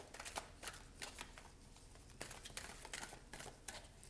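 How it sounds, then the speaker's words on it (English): A tarot card deck is shuffled close up, producing repeated riffling snaps and soft shuffling clicks in an uneven rhythm, quiet and alone. "Let's shuffle the tarot deck and let's see what comes up here."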